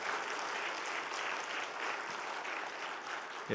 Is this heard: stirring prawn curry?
no